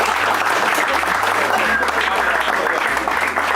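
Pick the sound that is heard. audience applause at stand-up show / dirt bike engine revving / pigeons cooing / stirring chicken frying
audience applause at stand-up show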